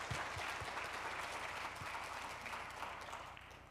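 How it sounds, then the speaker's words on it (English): Audience applause after a keynote plenary at a tobacco research conference, a continuous hall-filling patter of many hands, fairly faint and even before tapering off toward the end. "Thank you, and a big round of applause."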